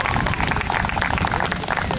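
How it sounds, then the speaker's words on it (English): A crowd breaks into steady applause, the clapping dense and continuous throughout with no talking over it. "a big round of applause goes to all these great volunteers in the yellow shirts"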